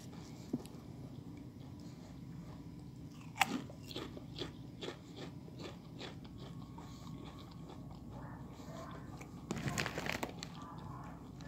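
Lay's Flamin' Hot Dill Pickle potato chips crunch under sharp bites and chewing, close and quiet, with scattered crisp snaps, a stronger bite early on and a flurry of crunching near the end, with no talking.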